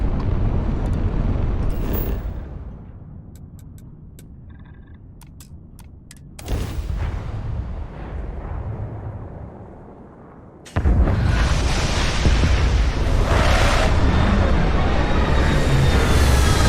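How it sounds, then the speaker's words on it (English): Missiles launched from a spaceship in Starfield, a space combat video game: a rushing roar with booming bursts, a brief whoosh early, then a quieter stretch, a sudden blast near the middle and a dense, loud barrage toward the end. "So we'll use the lasers and the missiles"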